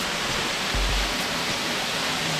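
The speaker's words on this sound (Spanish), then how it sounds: "Miren qué bonito, una cascada genial." The Giessbach Falls above Lake Brienz in Switzerland roar as a constant, broad rush of falling water, loud and close for the whole brief moment.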